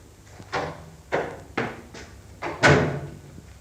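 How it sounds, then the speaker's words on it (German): Indoor door being opened in a German-language radio drama, a series of rhythmic creaking, rattling knocks, moderately loud and close, with no speech. "Diese Tür."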